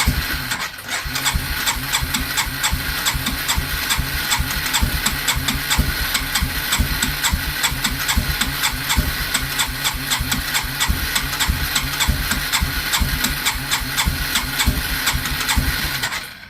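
A Polaris Bear Tracker ATV with a carburetor problem starts right away and idles unevenly with a steady, rapid chugging and some hiss. The engine is loud and close, runs alone for about sixteen seconds, then cuts off.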